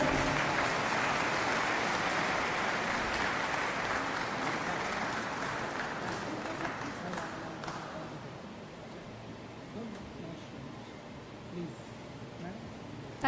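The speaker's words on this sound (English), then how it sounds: "Can I have a big round of applause" A crowd at a government inauguration ceremony in India applauds steadily, a dense wash of clapping that gradually thins and fades away toward the end.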